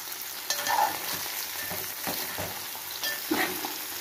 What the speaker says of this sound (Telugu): ఇది ఇలా మనం వేయించేసుకుని చక్కగా వేగిపోతుంది